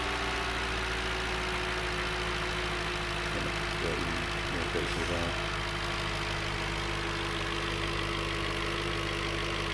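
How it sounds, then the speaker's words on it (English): Audi A6 4.2 V8 Quattro Avant engine idling with the bonnet open, a steady, close, even drone with a faint voice briefly under it. "There's your V8, 4 valves a cylinder."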